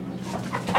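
Chickens cluck close by in a brief burst of a few quick, choppy calls, with no one talking.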